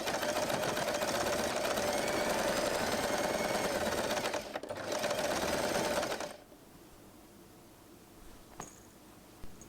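Sewing machine stitching along the folded edges of scrunchie fabric, a steady continuous whir for about six seconds that then stops, leaving faint handling sounds.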